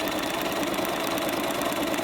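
A sewing machine runs steadily at a short stitch length, sewing down a folded spaghetti strap with a continuous close whirring drone and no pauses or talk.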